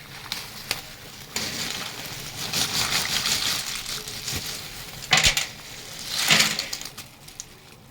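Pasta goes into a pot of boiling water, giving a sustained hissing rush with scraping clatter and two sharp louder bursts partway through, close and fairly loud with no speech.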